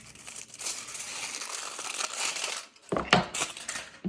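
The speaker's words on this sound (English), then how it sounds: "Now that I have my chocolate, I'm actually going to cut it up into smaller pieces." A knife chops a block of chocolate into smaller pieces on a board, giving steady close crunching and crumbling with a short pause before renewed cutting.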